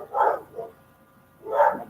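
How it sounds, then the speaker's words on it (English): Dogs barking indoors at home, two loud close barks about a second and a half apart, with a smaller yip between them and no talking. "dogs are barking"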